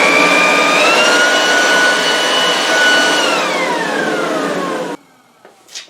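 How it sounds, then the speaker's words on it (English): A leaf blower vacuum mulcher running as a blower gives a loud, close, steady motor whine whose pitch sags near the end, then cuts off abruptly, leaving faint rustles. "So that should blow a few leaves, I think"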